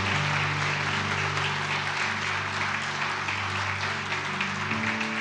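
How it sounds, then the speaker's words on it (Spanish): Church congregation applauding together during a Spanish-language service, a steady dense wash of clapping filling the room for several seconds with a faint tonal hum underneath. "Démosle un aplauso a Dios por eso."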